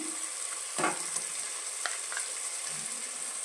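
Tomatoes fry with ginger garlic paste in a pan for prawn biryani, a steady soft sizzle with a few brief stirring scrapes and clinks, close but fairly quiet, without talking.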